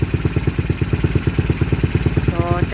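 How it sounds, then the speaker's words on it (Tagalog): A motorcycle engine fitted with a Solfili 28mm PWK flat slide carburetor idles with a steady, loud, even putter of rapid regular pulses close by, and no one speaks over it. "painitin lang natin yung makina, kasi mas maganda makita yung performance ng carburetor pag mainit na yung makina"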